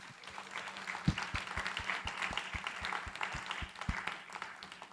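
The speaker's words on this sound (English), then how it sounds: "let us give them a big round of applause" Conference audience applauds speakers at a sustainable finance and economy event in Indonesia, a steady wash of many hands clapping with a few louder claps standing out, moderately distant and filling the hall for several seconds.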